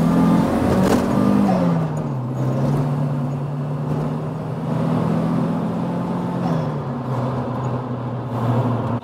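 A modified Volvo 940 Estate engine idles steadily with a low, throbbing hum that shifts pitch slightly, close by and fairly loud.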